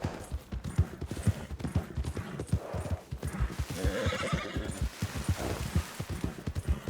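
In the Western video game Red Dead Redemption 2, a horse's hooves clip-clop in a steady rhythm throughout while it neighs and whinnies loudly, with faint distant gunfire in the background.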